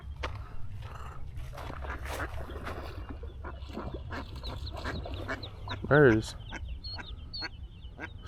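A mother duck quacks on the water near a lakeshore, one short loud burst of quacks standing out over low background rumble and faint speech.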